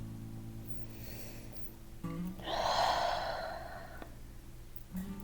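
Deep audible breathing during a calm chair yoga flow, one long slow exhalation swelling and fading in the middle, with softer breaths and a faint low hum before and after.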